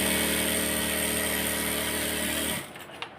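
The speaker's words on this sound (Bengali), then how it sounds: "তো কুচির এই কাপড়টা আমি এখন সেলাই করে কুচি দিয়ে দিব।" Sewing machine stitching ruffle fabric for a pillow, a loud steady mechanical whir running continuously for about two and a half seconds, then stopping abruptly into quiet.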